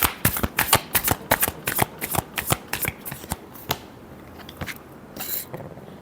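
Tarot cards riffle-shuffled up close, a run of quick crisp snaps and flutters that slows and thins toward the end, with no talk.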